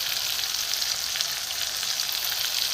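Jackfruit sautéing in a pan with turmeric, chilli powder, coriander and cumin gives off a steady, dense sizzle, close and continuous with no pauses, and no voices.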